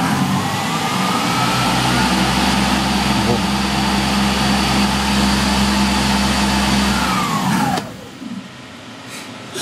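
An electric motor driven by a variable frequency drive runs steadily with a strong low hum and a rising whine for about eight seconds, then winds down abruptly and goes nearly quiet.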